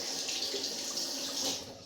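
Water runs steadily from a tap into a sink during a head shave, a close continuous splashing stream with no talking.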